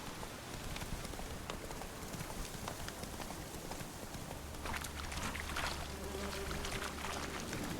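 Hooves of the horse Roach in the video game Witcher 3, a continuous clatter of hoofbeats mixed with a rain-like patter, steady and fairly loud throughout.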